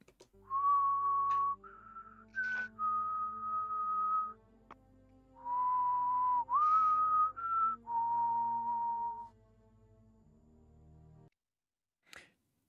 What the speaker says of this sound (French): il y a, et encore aujourd'hui, le corbeau qui le sifflote